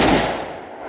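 A single loud pistol gunshot at a fighting pistol class, close and sharp with a quick decaying echo, no talk.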